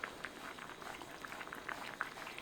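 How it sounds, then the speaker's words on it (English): Rice with shallots simmers in wine and stock for a mushroom and truffle risotto, giving a soft, steady bubbling with small scattered pops, fairly quiet and close, with no talk over it. "We got shallots, toasting some rice, and then cooking it with some wine and some stock."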